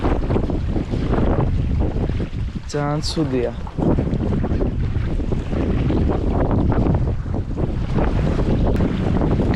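Strong wind blows over Lisi Lake during a fishing trip, a constant loud roar and buffeting on the microphone that runs the whole time, while someone speaks briefly under it.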